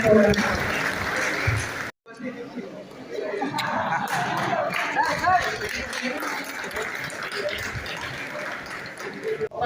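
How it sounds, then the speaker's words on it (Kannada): Sustained applause from an audience at a felicitation ceremony for a member of parliament, with lively chatter mixed in, broken by a brief pause near the start before the clapping resumes. "ಎಲ್ಲರೂ ಜೋರಾದ ಚಪ್ಪಾಳೆ ಮುಖಾಂತರವಾಗಿ"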